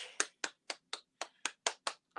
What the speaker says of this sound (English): And then we're going to clap and say,